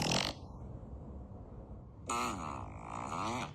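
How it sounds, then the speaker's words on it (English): A fart sound effect plays from speaker glasses linked to a phone: a low, buzzy rumble lasting about two seconds, set between short bursts of voices. "which I'm gonna connect to my phone to play fart noises"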